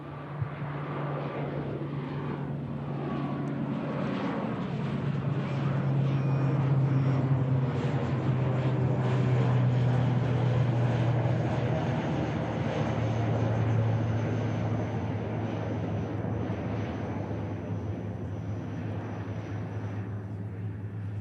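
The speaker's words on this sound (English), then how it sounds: "It's the inbound aircraft returning." An ATR turboprop operated by Emerald Airlines at Manchester Airport, a steady loud engine drone that swells in the middle and holds on without a break, with no talk.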